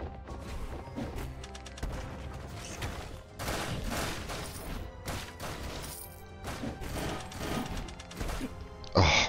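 Gunfire in the video game Nightmare The Lunatic, a busy run of sharp shots and crashing impacts layered over game music, ending in a loud burst.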